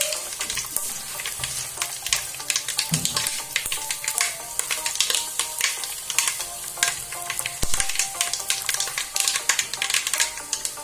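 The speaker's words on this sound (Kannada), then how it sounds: "ಎಲ್ಲ ಸಾಸಿವೆ ಚೆನ್ನಾಗಿ ಸಿಡಿಬೇಕು." Mustard seeds spluttering in hot oil for a patrode tempering make dense, rapid crackling and popping that runs unbroken and close throughout, with no voices.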